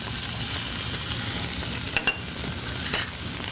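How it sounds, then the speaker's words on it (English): Three slices of chopped smoked bacon fry in a pan with a steady close hiss and crackle, broken by a few sharper pops and scrapes of stirring, no voices. "I'm gonna add about 3 slices of chopped smoked bacon."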